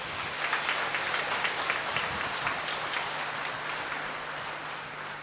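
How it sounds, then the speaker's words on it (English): A crowd at an outdoor feast Mass in Vailankanni claps together, loud at first and gradually thinning and fading, with a faint low hum underneath. "Let us express our joy and wishes together, clapping our hands"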